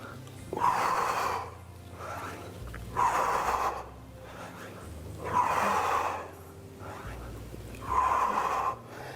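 Heavy, rhythmic breathing during push-ups, with four long forceful exhales spaced about two and a half seconds apart, close and breathy over a low background hum.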